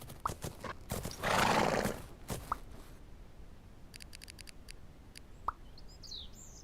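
Horse hooves cantering in the video game Fernhoof Grove, several quick thuds at the start and then a burst of rushing noise, followed by faint clicks, a single sharp knock and a distant high chirp.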